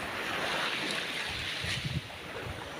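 Gentle sea waves wash steadily onto a calm, clear-water beach with rocks at a campsite, heard as a continuous soft surf mixed with wind noise on the microphone and a few low buffets, no speech.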